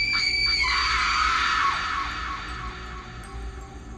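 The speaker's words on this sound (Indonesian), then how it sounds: "suara teriakan melengking yang terdengar sangat dekat dengannya" A shrill, piercing scream rings out loud and close at night at a solo campsite, holding high for about two seconds before trailing off into a lingering ringing tail.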